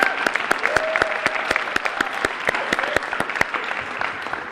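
Applause at the 29th Quill Awards ceremony for Professor Musevitz, a crowd clapping steadily, with sharp, distinct individual claps standing out near the microphone over the broader wash, and brief voices beneath.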